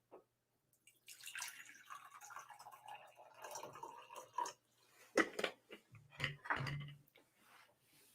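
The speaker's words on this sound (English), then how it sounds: "Now we're going to pour some water in." Water is poured into a beaker holding a teaspoon of baking soda, giving a quiet, uneven trickle and splash with a few small clinks and drips, faint and close.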